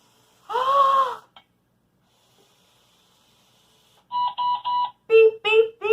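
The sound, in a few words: Bee-Bot robot beeping after finishing the obstacle course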